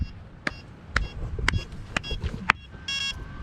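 An error beep from a drone with an ESC fault on a Big Island, Hawaii shoreline. Five sharp, evenly spaced beeps at about half-second intervals sound over outdoor background, followed by a short buzzing tone.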